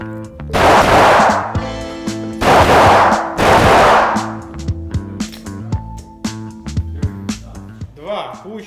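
Gunshots are fired at near and distant targets on a shooting range, with three loud, sharp blasts ringing out among quieter clicks and handling noises.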